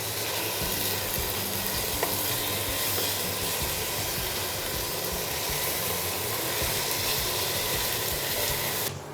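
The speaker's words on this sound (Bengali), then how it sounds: "এক পিঠ ভাজা ভাজা হয়ে গেছে, আমি চিকেন পিসগুলো উল্টিয়ে দিচ্ছি।" Chicken pieces sizzle steadily in a frying pan for a Bengali chilli chicken curry as they are turned over, a continuous close hiss with faint scraping and no talk.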